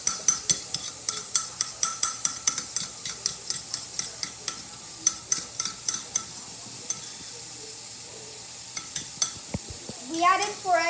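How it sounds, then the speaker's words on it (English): Rapid, regular whisking of four egg yolks in a bowl for carbonara, a steady train of close clicking strokes with a few brief pauses and a clatter near the end. "And then whisk the egg yolk."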